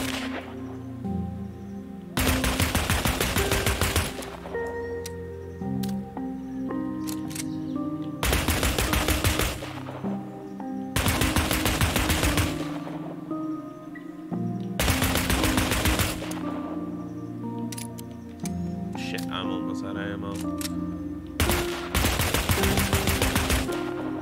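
Gunfire from shooting enemies in the Dreams game on PS4: several loud bursts of rapid automatic fire, each lasting a couple of seconds, separated by quieter stretches of game music and ambience.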